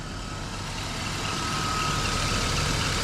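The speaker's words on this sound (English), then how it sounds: "Oh, that's idling even better now." A BMW M50 engine with over 100,000 miles idles steadily and smoothly with a low rumble and broadband hiss, constant and unchanging throughout, close by and moderately loud.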